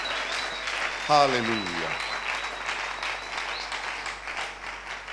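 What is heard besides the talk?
congregation applauding in church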